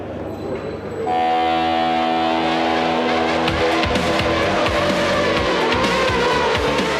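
A racing car driving a test run on a track, loud and close, its engine roaring steadily with tire squeal and skidding under the high revving, no talk.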